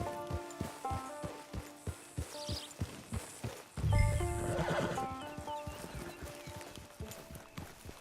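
A horse in Red Dead Redemption 2 clip-clops with steady hoof beats, then lets out a loud whinny midway, with game music playing underneath.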